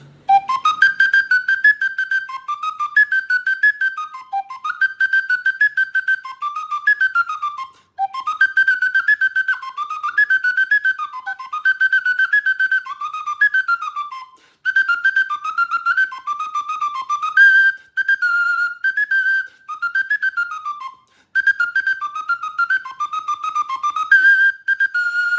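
Sicilian friscaletto, a small cane flute, playing a lilting folk melody in bright, pure high tones, close and steady, in repeated phrases broken by short breaths, with no voices.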